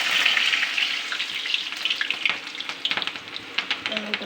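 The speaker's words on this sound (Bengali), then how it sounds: "আগে আলুগুলারে ভাজে নেব।" Potatoes hit a hot wok with a loud burst of sizzling that settles into a crackling, popping fry over a few seconds.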